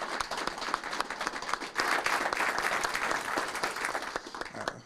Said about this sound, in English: if we could give Lamont one more big round of applause, please.